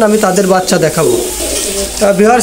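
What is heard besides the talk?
pigeons cooing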